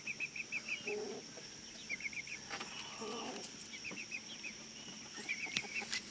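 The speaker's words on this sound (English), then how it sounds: "Let's go look at the chickies." Backyard chickens cluck in short repeated bursts at moderate distance, a soft chattering rhythm running through the whole stretch over a faint outdoor hum with occasional thumps, and no voices.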